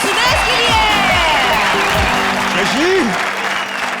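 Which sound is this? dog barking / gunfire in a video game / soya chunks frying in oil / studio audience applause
studio audience applause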